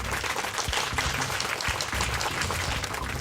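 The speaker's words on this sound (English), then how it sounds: "A round of applause for Indian School Sohar." An audience at a televised school quiz show applauds a quiz team from Indian School Sohar. Loud, dense clapping from a full room continues throughout with no talk.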